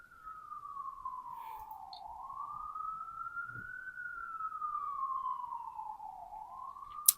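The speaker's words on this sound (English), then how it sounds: "these sirens are ridiculous tonight." A single emergency vehicle siren wailing outside at night, slow rising and falling sweeps, distant and faint, with a brief sharp click at the end.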